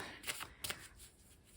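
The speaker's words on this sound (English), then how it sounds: "I'm going to pull from this last deck. So I'm going to shuffle this." A deck of oracle cards is shuffled close by, two quick riffling bursts followed by soft handling, quiet and without speech.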